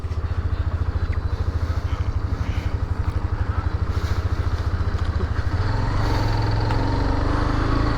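A motorcycle used as a bike taxi carries a passenger. Its engine runs nearby with a rapid, steady pulsing throb and then settles into a smoother, louder drone as it picks up speed.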